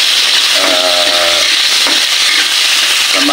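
Eggplant, added after tomato, fries in hot oil in a home kitchen with a loud, steady sizzle and hiss. A brief squealing tone rises near the start.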